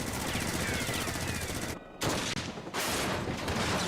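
Rapid gunfire from the video game Final Fantasy XIV: a dense, continuous burst of shots broken by two short pauses, loud and up close.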